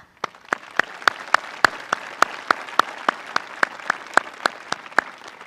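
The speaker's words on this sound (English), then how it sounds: "So round of applause for that." At a high school graduation, an audience gives a round of applause as a steady patter of clapping with sharp, evenly spaced loud claps standing out up close.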